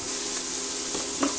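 Onions with a pinch of salt frying in a pan, giving a steady, loud hiss of sizzling with a couple of soft stirring scrapes.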